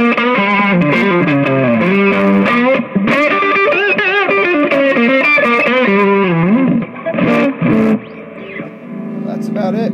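An electric guitar plays a lead line through a Zendrive overdrive pedal, giving a smooth, sustained, overdriven tone with vibrato-rich bends and legato runs. It is loud and alone, then tails off into quieter held notes near the end.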